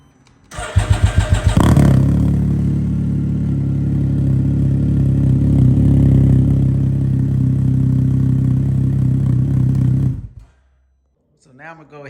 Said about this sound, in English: here's a cold start of the exhaust without the Baffle.